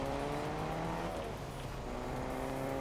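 Car engine in Fortnite, a steady droning hum with layered tonal harmonics, continuous and fairly close throughout, with no speech over it.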